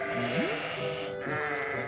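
Short bleating sounds in a Christmas story session for young preschool children, given by voices imitating sheep, a brief wavering call rising and falling once or twice over a couple of seconds.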